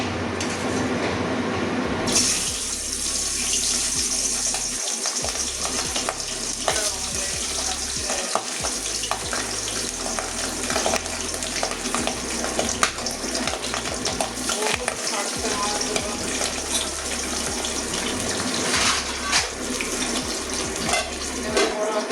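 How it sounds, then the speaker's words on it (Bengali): Pabda fish frying in hot oil in a home kitchen, a loud continuous sizzle and crackle that bursts up as the fish goes in, then spits steadily with occasional louder pops, no speech. "তেল গরম হয়ে গেছে অনেকটাই, এবারে মাছগুলো ভেজে নেবো।"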